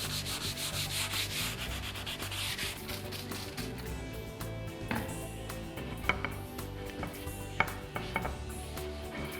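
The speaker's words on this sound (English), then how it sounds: "I'm gonna sand it with 320 grit, making sure not to press too hard when I'm sanding" Hand sanding a water-based finish with 320 grit sandpaper under light pressure: continuous close rasping strokes in a steady back-and-forth rhythm, with a few small knocks and clicks near the end.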